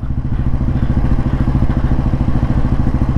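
A 1957 Royal Enfield Bullet G2 vintage motorcycle being ridden at low speed, its engine giving a loud, close, rapid and even thumping beat that continues throughout.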